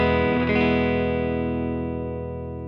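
A Fender Jazzmaster with 65 pickups plays a clean strummed chord through a Fender ProSonic amp, ringing out loud and sustained, then decaying slowly over a few seconds with no one talking.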